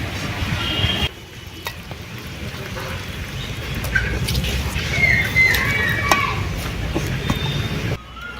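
Food is kneaded and mixed by hand with mustard oil and ground cumin paste, a steady close squelching and rubbing texture with soft wet slaps and faint background noise.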